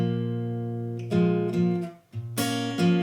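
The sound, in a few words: acoustic guitar playing a riff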